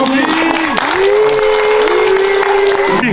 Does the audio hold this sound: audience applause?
yes